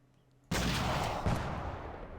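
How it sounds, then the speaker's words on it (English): Weapons being test-fired in the Totaler Krieg World War II strategy game mod for British paratroopers with rifles and a PIAT: a sudden loud volley of gunfire followed by a second sharp report and rolling echo. "Let's give this a test fire."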